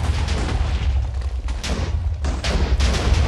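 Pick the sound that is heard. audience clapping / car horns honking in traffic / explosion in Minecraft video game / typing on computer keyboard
explosion in Minecraft video game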